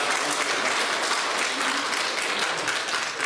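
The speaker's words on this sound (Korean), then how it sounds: "하나님께 영광의 박수를 드리니 얼마나 박수 치려면 한번 크게 한번 쳐보시기 바랍니다" Church congregation giving a loud, sustained round of applause during a sermon, dense clapping from many hands filling the room evenly throughout.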